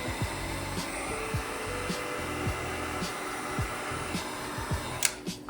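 A heat gun warms a vinyl front intake overlay, blowing with a steady, fairly quiet whir and regular soft ticks, then a louder knock near the end.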